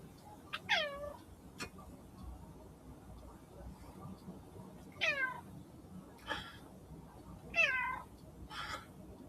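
A cat meows close by in several separate drawn-out cries spaced a few seconds apart, with faint background noise between calls.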